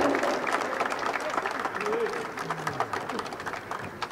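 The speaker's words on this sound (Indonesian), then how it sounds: "boleh berikan tepuk tangan yang meriah" Applause rises from the audience after a signing ceremony at a football academy event, with steady clapping and crowd murmur, fairly close, while a voice speaks over it.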